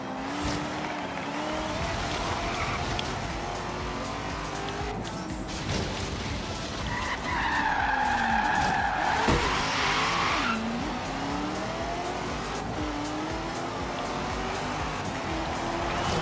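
A Corvette in the racing video game Forza Horizon 3, its engine droning steadily throughout while the tyres squeal and skid in long, wavering screeches, strongest in the middle stretch, with no talking.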